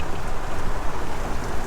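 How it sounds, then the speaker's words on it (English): Heavy rain pours steadily onto a flooding field in stormy weather, a dense, loud, unbroken hiss with no pauses or voices. "I mean you can see this weather and this rain."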